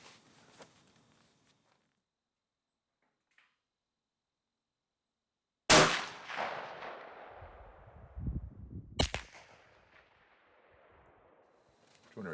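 Single sharp report from a hunting rifle fired at a 100-yard target, loud and close, with a long decaying echo rolling off afterward and a second, fainter crack a few seconds later amid quiet outdoor ambience.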